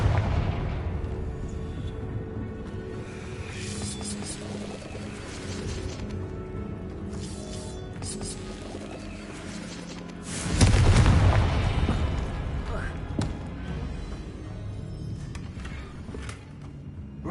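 A heavy magical Confringo blast in Hogwarts Legacy erupts as a loud, deep boom around the middle, trailing into rumbling debris. Softer bursts and game ambience fill the quieter stretches before and after.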